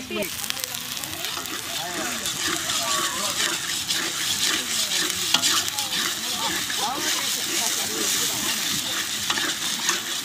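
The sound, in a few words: spices frying in a pan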